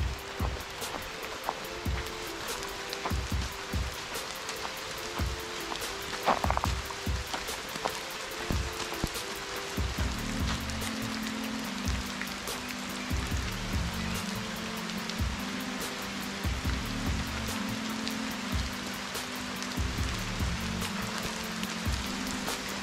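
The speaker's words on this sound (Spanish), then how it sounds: "Con la lluvia total, las gotas de la lluvia en las cámaras." Steady rain falls at a temple surrounded by vegetation, a dense, continuous patter of drops on surfaces that carries on without a break, with no voices.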